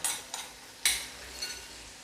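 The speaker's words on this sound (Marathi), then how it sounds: "त्याच्यानंतर ही ओली मिरची पण टाकूया आपण त्याच्यामध्ये आणि अशी हलवून घेऊया।" Green chillies are stirred into a sizzling spice tempering in a pan while cooking a rustic Maharashtrian pokla leaf dish, with a steady hiss and a few sharp scraping spoon strokes, no talking.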